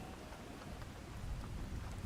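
Rain pattering on a tent in the video game Skyrim, a dense, continuous hiss of drops with a low rumbling undertone, steady and even across a short stretch, no voices.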